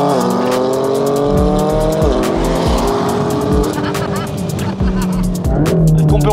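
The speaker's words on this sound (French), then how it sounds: "T'es à fond quand t'accélères." Car accelerating hard, engine revving and climbing through gears with sharp shift breaks and tire squeal, loud and close, while people talk over it inside the vehicle.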